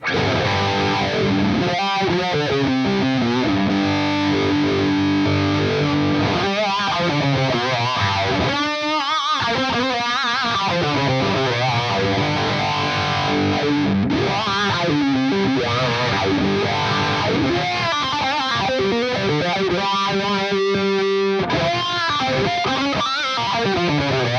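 Heavily distorted electric guitar through an Axe-Fx III wah block with EQ, riffing continuously with a sweeping, filtered tone that shifts in brightness, mixing fast runs and chugging passages.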